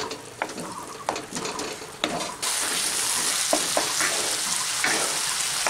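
A masala mixture with garam masala is stirred and sautéed in a pan as stuffing for snake gourd. Several close scraping strokes come first, then the sizzle swells into a loud, continuous frying hiss.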